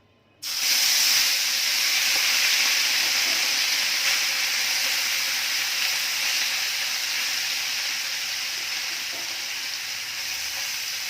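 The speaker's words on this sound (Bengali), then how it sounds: "আমি এখন বেলে মাছ ভাজি করব।" Small bele fish, pond-caught sand goby, frying in a pan, a sudden loud sizzle that starts at once and holds as a steady, bright hiss, easing slightly over time, with no talk.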